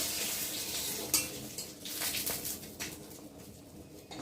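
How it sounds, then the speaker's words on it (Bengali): Whole cumin seeds and bay leaf tempering in hot oil for a lentil dal with papaya and potato, giving a steady close sizzle with a few sharp pan and spoon clinks as the spices are stirred. "গোটা জিরে। ফোড়নটা একটু ভালো করে ভেজে নেব।"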